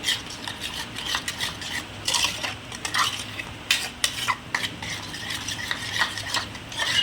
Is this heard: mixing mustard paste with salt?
yes